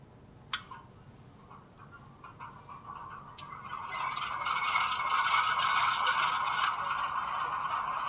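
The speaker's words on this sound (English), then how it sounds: "Got that beautiful GE 16-cylinder FDL engine." An N scale Dash 8 model locomotive's sound module plays a GE 16-cylinder FDL diesel engine cranking with a few clicks, then rumbling up into a steady, buzzy idle that grows louder and holds, with no talking.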